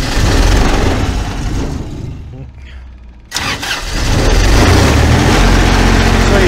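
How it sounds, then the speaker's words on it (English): A portable generator carried on a flatbed truck cranks and catches, then runs loud and rough with a rattling drone; the engine noise drops briefly before surging back up, and a voice can be heard over it. "Now I can start the generator from out here."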